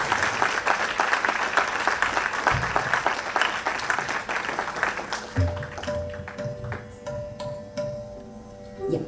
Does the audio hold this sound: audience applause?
yes